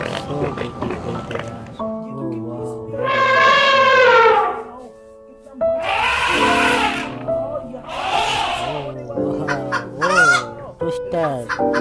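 A white rooster crows loudly in several drawn-out calls amid clucking and other fowl noise, close by in a busy farmyard.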